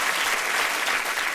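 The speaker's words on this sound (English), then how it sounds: "A lot of women clapping" Studio audience of women bursting into dense, steady clapping, loud and close, filling the whole short stretch with no voices over it.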